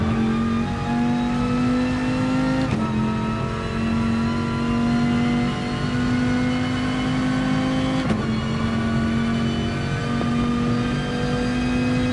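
A Dodge Viper engine in Gran Turismo Sport roars loudly and steadily at high revs, with its pitch briefly dropping at two gear shifts before climbing again.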